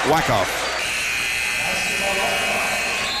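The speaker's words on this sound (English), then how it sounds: "So it's a buzzer" A loud, sustained electronic buzzer blares over crowd noise in a gym during a varsity boys basketball game, holding steady for a few seconds.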